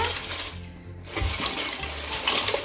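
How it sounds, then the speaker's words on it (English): Water splashes and bubbles in a pot while Thai drunken noodles (Pad Kee Mow) cook in a home kitchen, a steady broadband wash with a brief dip near the one-second mark, close and fairly loud. "Careful, water's splashing."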